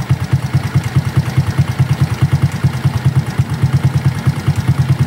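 Motorcycle engine idling at a cold morning start, steady low rumble with a rapid, even ticking tak-tak clatter pulsing through it, close and fairly loud with no voices.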